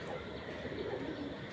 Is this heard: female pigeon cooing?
yes